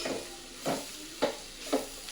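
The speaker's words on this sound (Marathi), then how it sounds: "ते मसाले आता आपल्याला कांदे आणि वाटाण्यामध्ये छानपैकी मिक्स करून घ्यायचे आणि थोडं भाजून पण घ्यायचं चांगलं." Spice masala roasting with onions and peas in a pan, a soft steady sizzle broken by three quick scraping stirs of a spoon, close and quiet with no talk.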